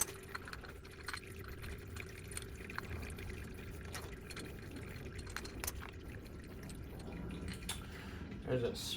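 Engine oil drains from a motorcycle into a pan, a faint steady trickle with occasional drips under quiet background noise throughout.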